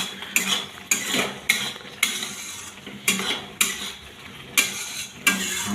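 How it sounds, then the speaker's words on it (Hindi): Prawn and drumstick curry with garam masala being stirred in a metal pan, a spoon scraping and clinking in a steady rhythm of about ten strokes, close and alone under a faint sizzle. "थोड़ा गरम मसाला डाल रहा हूँ। अच्छा से मिक्स कर देते हैं।"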